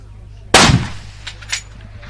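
A single loud, close gunshot at a shooting competition cracks sharply and decays quickly, followed by a couple of faint clicks or distant reports, with light background murmur.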